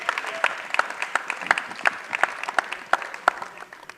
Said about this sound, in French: Est-ce qu'on peut applaudir pour elle, s'il vous plaît